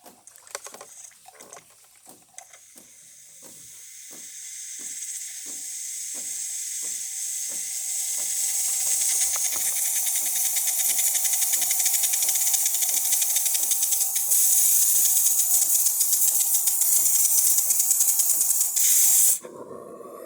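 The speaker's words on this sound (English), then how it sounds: "It takes a bit until it's get hot and start steaming." A serviced DeLonghi Magnifica espresso machine's steam wand starts with intermittent pumping ticks and sputters, then builds into a loud, steady hiss that holds for several seconds before cutting off abruptly.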